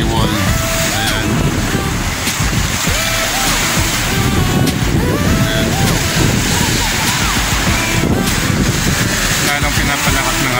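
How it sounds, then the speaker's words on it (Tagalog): Loud, continuous roar of surf and gusting wind during a strong southwest monsoon, large waves crashing steadily against a seawall with a rough, blustery texture throughout. "Ang pinapalakas ng habagat ang yung hangin at saka pinapalaki yung mga alon."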